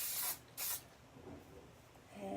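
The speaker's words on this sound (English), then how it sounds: "A little bit of spray." Two short, sharp hisses of an aerosol hairspray, close up, followed by quiet rustling.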